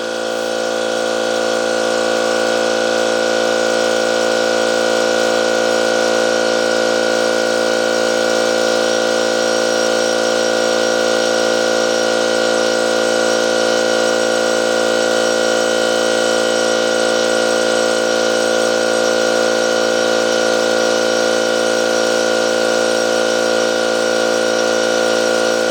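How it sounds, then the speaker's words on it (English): A cordless air compressor, DeWalt 60V or Milwaukee 18V, runs continuously with a loud, steady motor and pump drone, unbroken and close for the whole stretch. "On the compressor"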